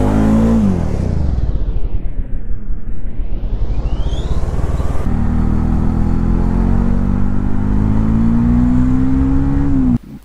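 A motorcycle on a road at full throttle: a loud, close engine climbs steadily in pitch, shifts gear, then keeps accelerating and cuts off abruptly at the end.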